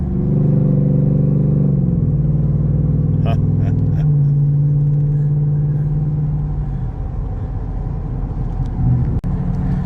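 A pickup-style truck with performance suspension drives steadily on a road, a continuous loud low engine drone and road rumble from inside the cab with a gear shift around two seconds in and a faint voice underneath.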